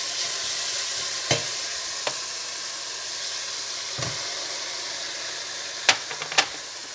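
Minced meat frying in a pan with onion and ginger-garlic paste, a steady broadband sizzle with several sharp stirring clinks and scrapes scattered through, close and fairly quiet, no talking.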